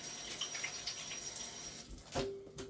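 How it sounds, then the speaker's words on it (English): Kitchen tap running steadily while hands are washed, a close, continuous rush of water that breaks off near the end, followed by a brief clunk. "Let me get my hands washed off here."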